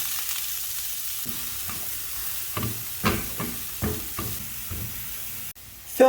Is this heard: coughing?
no